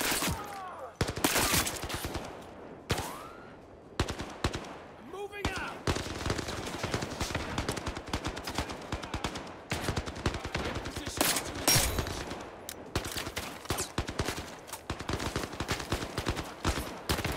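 Gunfire in the VR shooter Zero Caliber, with rapid bursts of loud close automatic shots and single cracks repeating throughout, broken by short pauses, plus occasional voices.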